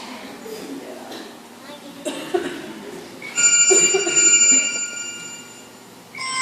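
A telephone rings with steady high electronic tones during an amateur school stage play, partly under stage voices and background noise before someone picks up.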